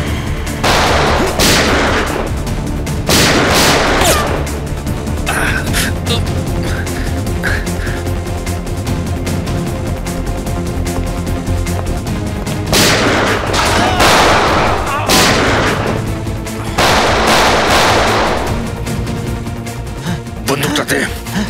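Gunshots ring out in loud, repeated sharp bursts during a tense scene of the CID crime drama, mixed with shouting and dramatic background music.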